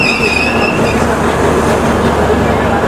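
A passenger train on a Ranchi to Delhi journey through Jharkhand rolls slowly, heard from inside the carriage as a loud, steady rumble with wheel noise and a brief high squeal.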